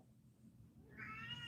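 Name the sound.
pet cat meowing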